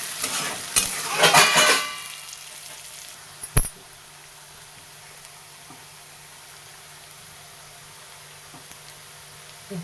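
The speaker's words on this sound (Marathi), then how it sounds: "दोन्ही एकत्र मिक्स होतात या पद्धतीनं असंच परतून घ्यायचं" Kardai greens stirred and sautéed in a pan: a burst of scraping and sizzling for a couple of seconds, one sharp knock, then a quiet steady sizzle for the rest.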